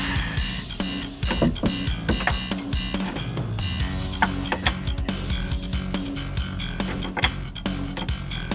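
A ratchet backs out 13 mm bolts on a BMW E46 differential, its rapid clicking pawl running in repeated close bursts with metallic clinks between strokes.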